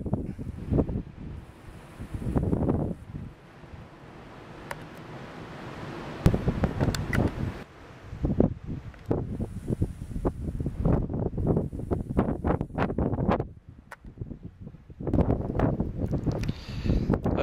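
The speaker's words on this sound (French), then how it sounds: "Il y a beaucoup de vent au sommet" Strong wind gusts buffet the microphone at a mountain summit in loud, roaring bursts that rise and fall, with rumbling low noise and no talking.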